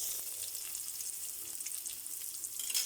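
Onion frying in a pan with garlic, a soft continuous sizzle and crackle, fairly faint and steady throughout with no talking.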